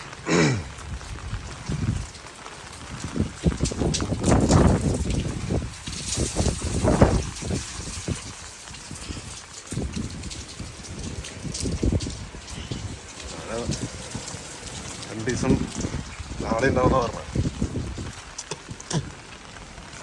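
Rain falling outdoors, pattering on surfaces and an umbrella, with gusts and splashes; a person talks over it at intervals throughout.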